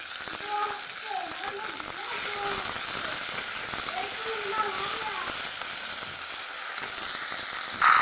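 Oil sizzles steadily in a pan as a tempering is fried for dal in a home kitchen, a soft continuous crackle with faint stirring and a voice speaking over it.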